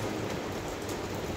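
Steady, dense rain pours down on a roadside during a downpour, a continuous close hiss with no pauses and no voices.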